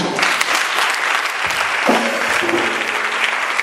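Congregants at a French-language church service applaud Jesus with dense, sustained clapping close by, a loud, continuous wash of claps with no pauses.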